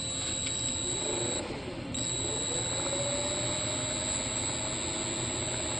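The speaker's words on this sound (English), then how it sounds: "Now, what I'm going to do is just run the motor up a little bit with a Dremel tool." Small electric motor spun up by a Dremel rotary tool with a drive wheel, giving a steady high whine with a sustained tonal hiss over a dense broadband buzz, close and continuous throughout.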